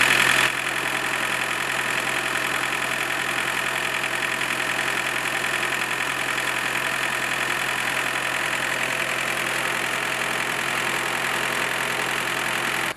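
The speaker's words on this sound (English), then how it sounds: "Let the engine run for a few minutes until the bottle is nearly empty and then stop it" A MK2 Volkswagen Golf GTD diesel engine idling nearby while injector cleaner runs through it, a steady unbroken rumble with a fine, even clatter that holds constant throughout.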